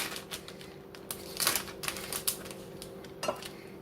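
Mexican cheese stirred into taco spaghetti, heard as quiet, irregular clinks and taps of a utensil against the pot, close and soft, with a steady low hum underneath.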